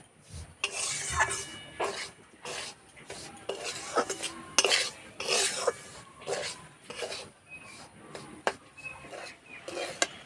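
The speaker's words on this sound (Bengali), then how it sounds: "এই যে সুজিটা ভাজা হচ্ছে" Repeated scraping and clinking of a spoon stirring semolina frying dry in a pan, irregular strokes close up with quiet pauses between.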